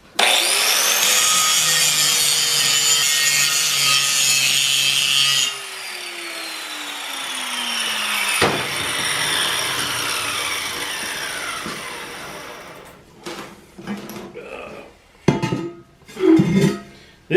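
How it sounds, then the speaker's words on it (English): An angle grinder works on a steel truck wheel being built into a fire pit, a loud continuous close-up whine that winds down partway through, followed by scattered knocks and clanks of metal being handled. "I'm just going to clean this up with the grinder a little bit."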